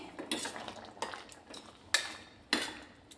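A spoon stirs crushed kasuri methi into rajma masala in a metal pan, giving several sharp, separate clinks and scrapes close by, with no talking.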